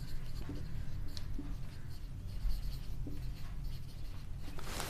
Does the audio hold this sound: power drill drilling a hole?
no